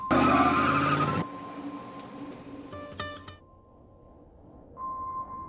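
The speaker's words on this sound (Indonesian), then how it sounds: "Dengan wajah cemberut, Joanna akhirnya pergi menggunakan mobil biru muda miliknya, meninggalkan Clint sendirian dalam keadaan frustasi." A light blue car drives off, its engine loud and close for about a second before cutting away to a quieter rumble, with brief tonal chirps and a faint hum afterward and no voices.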